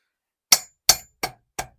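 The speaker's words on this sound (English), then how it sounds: "No shame in using the hammer to send it home." Four sharp metallic hammer blows ring out in quick succession, driving a bolt into a Liquifire suspension, each a bright clang that fades fast, with silence between.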